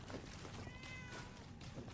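A cat meows once in Fallout 4, a short mewing call rising over steady game ambience with a low rumble beneath it, near and fairly clear.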